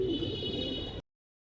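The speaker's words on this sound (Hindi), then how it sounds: "कबूतर और रह रहे हैं अभी" Pigeons of the Hare Kalu breed give a short, steady run of soft cooing for about a second, fairly close and heard alone before it cuts off.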